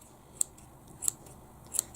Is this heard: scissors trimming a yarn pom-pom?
yes